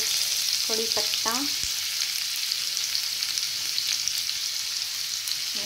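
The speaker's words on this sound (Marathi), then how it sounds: "लसूण आता चांगला मस्त असा फ्राय झालेला आहे आणि आता आपण याच्यामध्ये टाकणार आहोत कढीपत्ता" Garlic frying in hot oil for a Marathi fish curry gives a steady, close sizzle, with a few brief high squeaks early on and no talking.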